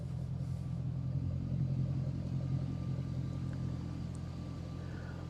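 A Jaguar XK8 with an aftermarket exhaust system idles with a steady, low, throbbing rumble, swelling slightly in the middle before settling, close by and continuous, with no voices.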